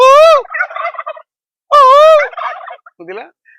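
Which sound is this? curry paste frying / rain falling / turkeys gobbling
turkeys gobbling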